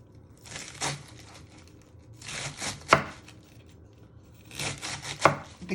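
A kitchen knife finely slices an ingredient for prawn cocktail on a cutting board, giving quiet, close clusters of crisp cutting strokes with short pauses between them and no talking.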